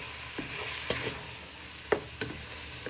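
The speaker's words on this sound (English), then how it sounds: "Now you want to add in all your ginger, garlic and spring onions to your pan with your mince" Ginger, garlic and spring onions cooking with pork mince in a pan, giving a steady low sizzle broken by several sharp scraping stir strokes, close and alone with no voices.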